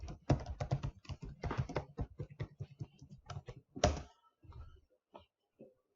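Close, crisp typing on a computer keyboard, with rapid irregular keystrokes that slow into a few isolated taps and fall silent at the end.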